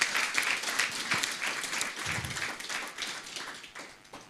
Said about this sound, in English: can you give yourselves a round of applause on that?